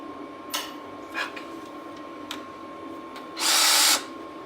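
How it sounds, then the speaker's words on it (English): A few light clicks and taps, then a short, loud burst of a power drill whirring for about half a second, close by, drilling wall trim wood for a spice rack. "I have bigger drill bits, which I'm going to be needing anyways"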